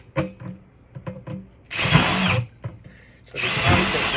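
Two bursts of a power drill whirring loudly while drilling holes in a 5-gallon plastic bucket, separated by clunks and knocks of handling the hollow bucket.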